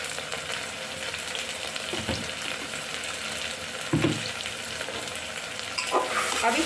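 Vegetables frying with red chilli powder and salt make a steady close sizzle, with a few brief stirring scrapes and knocks breaking through. No one talks.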